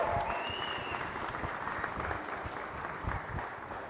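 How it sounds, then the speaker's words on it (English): Sustained applause from an audience at a live awards event, honoring a performer named Apple, steady dense clapping throughout with a few sharper claps rising near the end. "You can have a round of applause for Apple."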